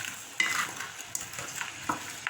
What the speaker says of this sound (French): on va laisser revenir les légumes